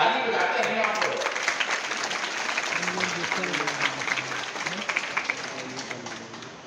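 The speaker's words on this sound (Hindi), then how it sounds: "ताली बजाते हैं आप लोग।" A crowd claps together in a dense, continuous patter that slowly thins out, while a voice talks over the applause throughout.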